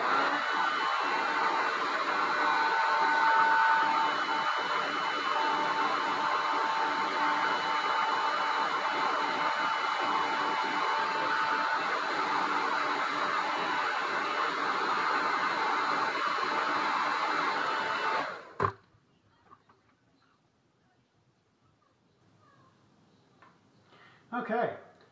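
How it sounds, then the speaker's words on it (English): A hair dryer blows hot air onto the bent plastic of a dog-chewed Quest 2 headset, a steady close whooshing hum lasting about eighteen seconds before cutting off abruptly into near quiet. "you can try with a hairdryer heating it up, putting it kind of along the line that it's bent, and little by little bend it back"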